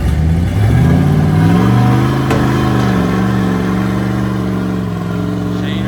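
A 1965 Ford F250 pulling truck engine revs hard and loud and close, surging and holding a steady roar as it launches and pulls, with no voices over the engine.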